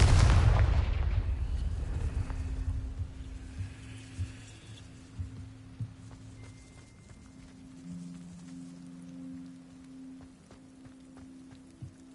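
A Confringo blasting spell explodes in Hogwarts Legacy with a loud, deep boom at the start, followed by a fading rumble and quieter ambient game tones.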